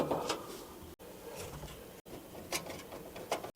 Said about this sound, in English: Doing all 3 screws on one side here.